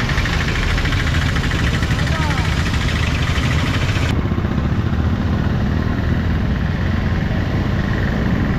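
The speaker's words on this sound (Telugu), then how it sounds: "It's Kawasaki ninja 300." A Kawasaki Ninja 300 motorcycle engine running at idle, a loud, steady close rumble throughout with slight changes partway through.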